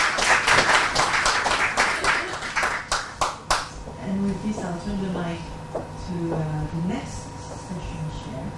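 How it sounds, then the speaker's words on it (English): Conference audience at an ocean-economy session gives a round of applause, with distinct claps for about four seconds before they fade out as a speaker begins talking. "And with this, I have a round of applause."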